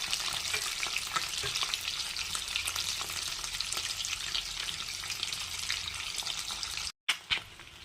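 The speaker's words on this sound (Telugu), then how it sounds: "ముందుగా ఒక కడాయిలో నూనె వేసి ఎగ్ పీసెస్ని కడాయిలో వేద్దాం." Boiled egg pieces fry in hot oil in a kadai, a steady dense sizzle running throughout with occasional stirring scrapes, cutting out briefly near the end before resuming.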